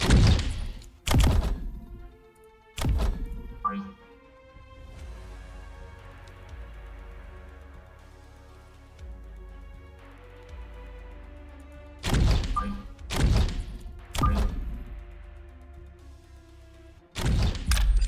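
Booming thunder cracks burst in several loud clusters, separated by stretches of low rumbling and patter, from a thunderstorm in the strategy game Mechabellum.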